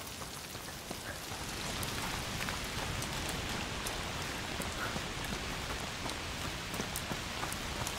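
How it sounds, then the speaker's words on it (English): Steady rain falls in the dark medieval world of A Plague Tale: Requiem, a dense, even hiss of drops spattering on surfaces throughout, fairly quiet and without any voices. "Foul rain."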